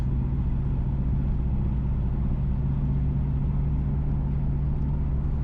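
Close, steady low rumble of a car engine and road noise while driving along the B11 route between Bamboo and Ebenezer in St Ann, Jamaica, continuous with no breaks.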